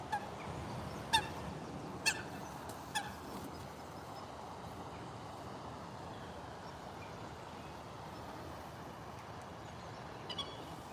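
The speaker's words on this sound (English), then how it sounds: "No, I think it might be ducks actually." Faint, distant duck-like honking calls, a few spaced single cries early and a pair near the end, over a steady outdoor hiss on a walking trail.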